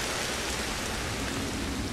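Rain falls steadily outside a cave in the video game Ancestors: The Humankind Odyssey, a dense, even hiss of drops with a low rumble beneath, heard alone.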